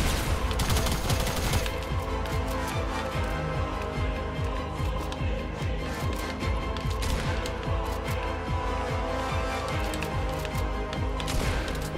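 Dense, rapid gunfire crackles nonstop for the whole stretch, loud and close, with bursts overlapping like automatic weapons in a Fortnite firefight.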